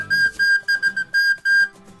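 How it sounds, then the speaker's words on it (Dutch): A recorder mouthpiece used as a foley whistle, blown in a series of short sharp toots with brief gaps, loud and close, a bright piercing tone repeated about eight times. "Een mondstuk van een blokfluit. Deze wordt gebruikt voor het gefluit van de boze meneer."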